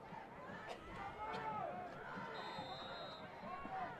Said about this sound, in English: Nice crowd tonight. The Gonzales fans traveling well.